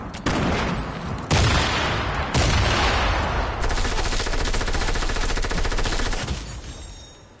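Video game gunfire: sustained rapid bursts of automatic shots, loud and dense, with a couple of heavier blasts in between, trailing off at the end.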